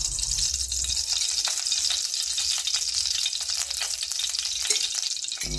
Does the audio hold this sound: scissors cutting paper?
no